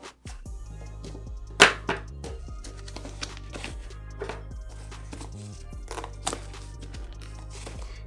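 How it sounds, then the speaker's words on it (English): A camera bag for a GoPro Hero 9 POV photography kit is zipped shut, giving a series of short, scratchy zip strokes in an irregular rhythm over a faint steady background hum. "And everything still zips up."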